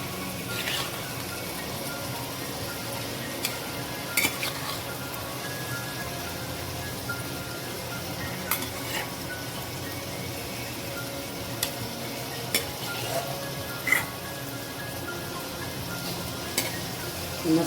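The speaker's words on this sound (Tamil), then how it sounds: "மசாலாவோட நல்லா மிக்ஸ் பண்ணி விட்டுடலாம்." Chicken fries with tomato and masala in a pan, giving a soft continuous sizzle broken by occasional scraping clicks as it is stirred, close by and fairly quiet with no talking.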